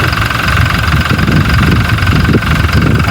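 A car engine idles steadily nearby, a loud, even mid-pitched rumble with a slight knocking vibration running throughout.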